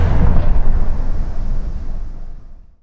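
A designed explosion effect built to power up a sci-fi hyperdrive: one loud, deep boom that rumbles and slowly fades out over a few seconds.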